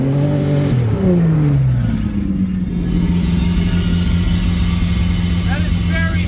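A Mitsubishi Magna street stock race car engine revs hard, pitch dropping through gear changes before settling into a loud, sustained drone, close and constant with faint talk beneath.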